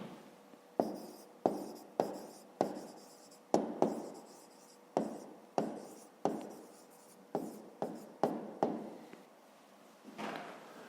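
A pen writes on paper during a fifth-grade maths exercise: close, distinct taps and scratchy strokes come in a series of short bursts, with no talking.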